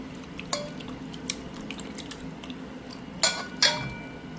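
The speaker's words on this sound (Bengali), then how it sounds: "এই হলো চিকেনটা, এবার আমি ভালো করে ধুয়ে নেব।" Raw chicken pieces for chili chicken are rinsed under running water in a kitchen. A low wet wash runs throughout, broken by a few sharp splashes and clinks of the bowl, with two louder knocks near the end.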